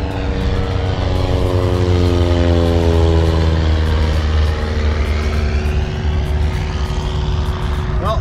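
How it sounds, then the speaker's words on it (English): A loud propeller plane drones overhead, its engine tone sliding lower as it passes, steady and powerful throughout. "So there's a plane."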